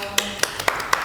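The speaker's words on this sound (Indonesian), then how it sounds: "buat narasumber kece dan keren kita tepuk tangan dulu dong" A few separate hand claps ring out for podcast guests, about four or five sharp, close, evenly spaced claps over a faint, steady background.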